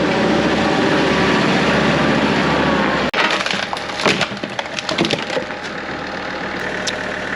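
Wooden sawhorses give way under the weight of a dugout canoe: a steady broadband rumble breaks off abruptly, followed by several loud, close cracks and splintering snaps of wood over a few seconds.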